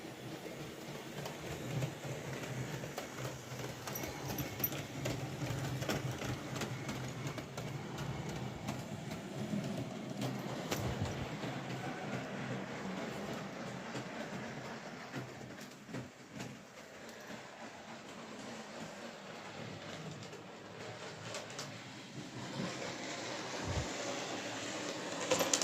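A small, light Hornby Locomotion No.1 model locomotive runs along a model railway track, giving a quiet, steady mechanical whirr with faint rail clicks that continue evenly for the whole stretch without any talk.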